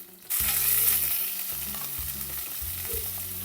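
Sliced onion and four or five green chillies start frying in a pan for a drumstick dal rasam, a loud sizzle bursting in after a brief quiet moment and crackling steadily on, with a low hum underneath.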